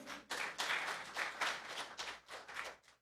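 Faint applause from a gathering greets visiting guests: short swelling bursts of clapping that rise and fall several times, heard at a distance.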